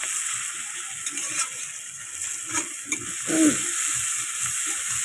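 Sliced onions and green chillies fry in an oiled pan, giving a close, steady sizzling hiss with a few louder spits and stirring scrapes, without any voices.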